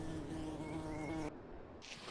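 Bees and other insects buzzing close by on a countryside walk, a steady droning hum that cuts off abruptly partway through, leaving a fainter buzz behind.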